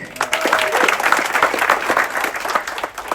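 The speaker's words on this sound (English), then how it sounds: "In your applause, our barkeeper Mark" Passengers aboard the Amadeus applaud the ship's barkeeper, a full steady burst of clapping from a crowd that swells early, holds, and thins slightly toward the end.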